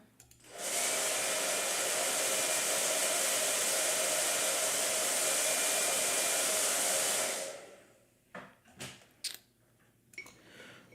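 A blow dryer roars steadily and loudly for about seven seconds in an art studio, then cuts off, leaving a few faint knocks and handling sounds.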